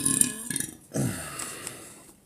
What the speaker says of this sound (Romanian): De la ce râgâi, mă, frate,